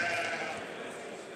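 A Valais Blacknose sheep bleats once in a drawn-out, wavering call at a grading demonstration at Carlisle, fairly distant and quiet over faint background murmur.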